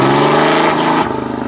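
Car engine revving hard under load on a dyno, tested with the silencer ring removed; a loud, steady roar that shifts pitch and settles into a pulsing drone partway through, with no talking.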